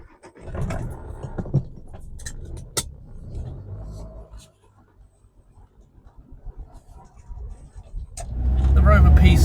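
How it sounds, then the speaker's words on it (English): A 1965 Rover P6 2000 pulls out onto the road, engine rumbling low and rising toward the end, while a person talks over the car noise. "Let's get her out on the road and see what it's like."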